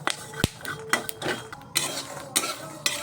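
Peanuts stirred while dry-roasting in a pan, a spoon scraping and clinking against the metal in irregular strokes with the nuts rattling, close and fairly loud.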